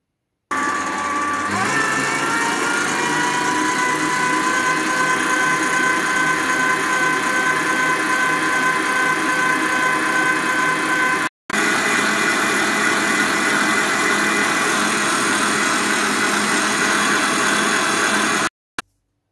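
Ganache for a unicorn cake is whisked, with a close, steady whirring motor drone that runs almost continuously. It breaks off briefly once partway through, then resumes until it stops.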